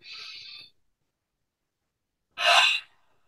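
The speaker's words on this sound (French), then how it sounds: "Et on continue d'inspirer." Two breaths during a guided yoga and meditation session: a short airy inhale, a pause of silence, then a deeper, louder rushing breath close to the microphone.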